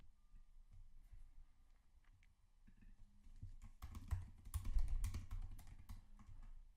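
Someone types label text on a computer keyboard. A few sparse taps at first give way to a quick, dense burst of clicking keystrokes, up close and with no talking.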